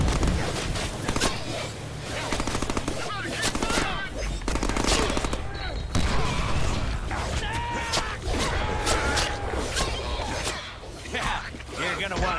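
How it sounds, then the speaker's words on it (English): Heavy machine gun fire in the Deadpool video game, with rapid bursts of gunfire crackling over game effects and grunts, and someone talking over the shooting throughout. "Let's make sure we're not dying to the heavy machine gunners who are up there."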